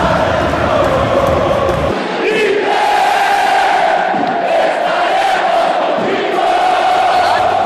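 Grêmio and Inter supporters chant together at a Grenal football derby, a dense roaring crowd singing in sustained unison, loud and steady throughout with a brief dip near the two-second mark.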